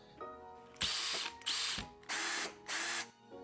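A Ryobi cordless drill whirs in four short bursts, each a high-pitched motor whine starting and stopping, close up with no talking.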